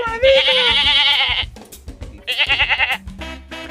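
A goat bleats loudly twice, long wavering cries close by, separated by a short pause with faint background noise.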